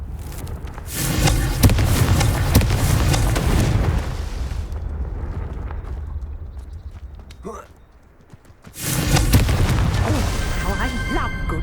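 Blasts from the Confringo spell in the Hogwarts Legacy video game boom heavily and loudly. A dense burst fills the first few seconds, then the noise drops to a quieter lull before a second forceful blast rolls in.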